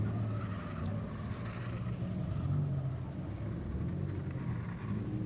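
Race cars roar off turn 4 at Claremont Motorsports Park in a close battle, a steady dense engine drone holding throughout at moderate distance with no voices.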